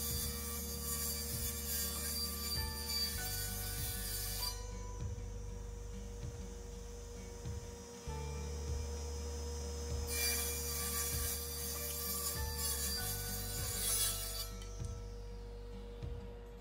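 Boards are crosscut on a table saw fitted with a shop-made scrap-wood crosscut sled, the motor humming steadily while the blade bites through wood in two bright bursts of cutting noise, with no talking.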